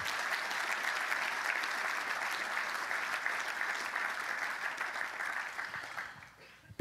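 An audience at a charity fundraiser applauds in a sustained, even wash of clapping that holds steady, then fades away toward the end, moderately distant.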